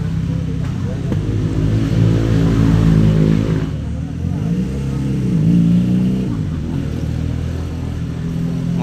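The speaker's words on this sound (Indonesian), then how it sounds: "Kalau suaranya begitu moge." A big motorcycle engine revs nearby, its deep throaty roar swelling and falling in long waves while people talk over it.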